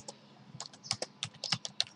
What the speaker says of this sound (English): So you can just go on typing over here.